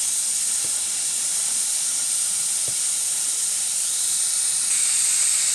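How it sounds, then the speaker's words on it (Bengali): Oil poured into a hot kadai gives a loud, steady hiss that holds throughout, close up, with a couple of faint clicks and no talking. "আমি তেল ঢেলে দিচ্ছি।"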